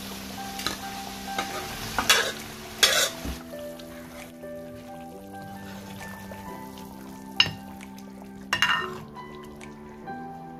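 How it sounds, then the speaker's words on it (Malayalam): Sambar is poured into a sizzling tempering of chillies and curry leaves, giving a few sharp hissing bursts and splashes over a low steady simmer, with stirring clinks and no talk. "സാമ്പാർ നമ്മളെ വറവിലേക്ക് ഒഴിച്ചു കൊടുക്കാൻ പോകുന്നു"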